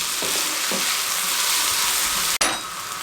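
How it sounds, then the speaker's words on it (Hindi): Vegetables and chicken fry in hot oil over a high flame, giving a steady, loud broadband sizzle with a few soft stirring scrapes and one sharp clank near the end. "ये सब्जियां और चिकन को उठाना है, इसमें शामिल कर दें और इसको हमने 3 से 4 मिनट अच्छे तरीके से इसमें फ्राई करना है"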